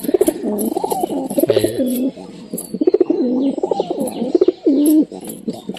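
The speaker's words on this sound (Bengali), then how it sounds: "কত সুন্দর হোমার ডাক" Homing pigeons coo loudly and close by in repeated throaty rolling phrases, several birds overlapping with brief pauses between bursts.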